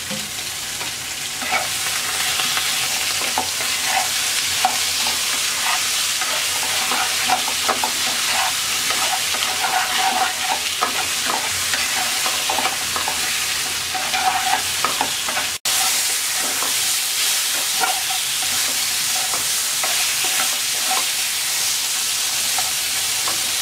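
Eggplant seasoned with salt and turmeric fries in oil in a wok, a loud steady sizzle broken by frequent stirring scrapes, close up and continuous, with no speech.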